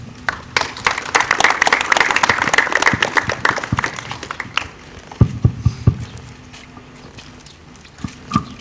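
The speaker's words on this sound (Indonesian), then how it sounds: "Mari kita beri aplaus." An audience at an indigenous community and student forum bursts into dense, loud applause that lasts about four seconds, then thins into a few scattered claps that fade out over the next several seconds.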